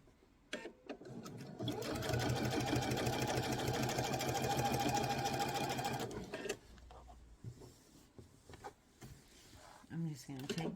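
A sewing machine stitches fabric-wrapped rope into a bowl, a close, loud, rapid mechanical whirr running steadily for about four seconds, then stopping, followed by handling clatter and a voice talking.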